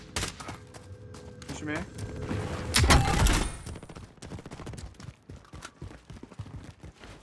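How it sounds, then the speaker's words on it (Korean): Gunfire in a Call of Duty: Warzone match comes as bursts of rapid shots and sharp cracks, peaking in a loud volley midway, while players talk over it. "이쪽에서 총소리 계속 났어"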